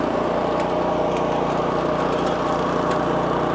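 An old Craftsman snowblower engine chugs steadily and evenly while the machine runs in first reverse gear, a constant mid-loud mechanical hum with no voices.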